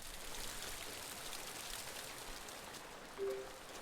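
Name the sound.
rain falling in the video game Kynseed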